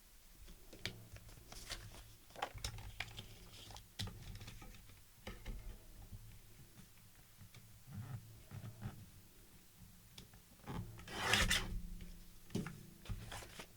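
Paper being cut for a junk journal cover makes quiet, scattered snips and rustles, with short crisp clicks and light scraping spread irregularly across the span.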